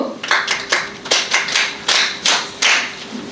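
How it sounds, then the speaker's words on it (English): Students at a school assembly clap in a series of distinct bursts, about a dozen sharp, bright hand claps in an uneven rhythm, fairly close and alone without talk. "Special claps go."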